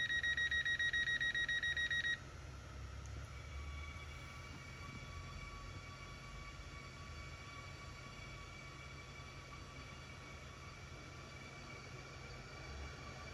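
A Class 717 metro train in a video game sits at a station with a steady low rumble, opening with a few seconds of repeated electronic beeping tones, then continuing with a constant hum and faint high whine.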